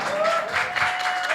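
Brief audience applause at a talk show, a short burst of moderately loud clapping from a crowd with a faint tonal hum underneath.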